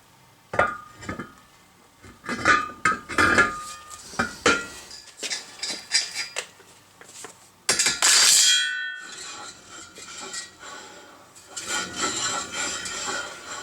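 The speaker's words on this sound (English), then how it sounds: "So let's drop the rim on it." A wheel rim dropped onto a brake rotor during a brake bracket mockup gives a sharp ringing metal clang, close and loud, amid scattered clinks and scraping of parts being handled before and after.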